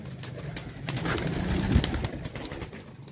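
Soft pigeon coos rise and fall over a low, steady background murmur, with a slightly louder cooing phrase near the middle.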